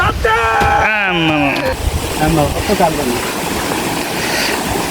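Water rushes steadily like a flowing stream, blackened from washing charcoal, with a voice talking over it at the start.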